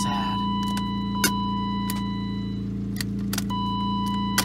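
A Fiat with a dead battery being jump-started from a BMW drones with a steady low electrical hum and whine rather than catching, with a few sharp clicks and a faint chime over it.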